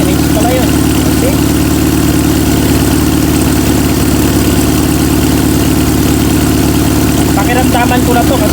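A Toyota 5K carbureted engine idles steadily during carburetor tuning, its low, even drone running unbroken from start to finish at a close, loud level.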